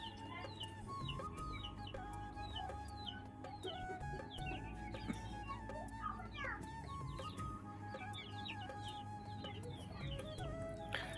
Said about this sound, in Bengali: গাইস, এই যে কত মুরগি